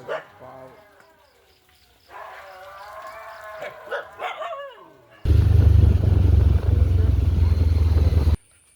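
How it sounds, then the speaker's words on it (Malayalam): Nearby dogs bark and yelp in short bursts, then a loud engine roars up and drowns everything out. "ഇവിടെയും കുറച്ച് ഡോഗ്സുകളൊക്കെ ഉണ്ട് കേട്ടോ"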